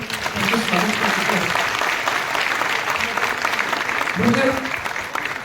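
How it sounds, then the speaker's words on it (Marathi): An audience at a Marathi stage play claps loudly for the performers, a dense burst of applause filling the hall, with a voice faintly audible underneath. "सर्व कलाकारांसाठी सर्वांनी जोरात टाळ्या वाजून"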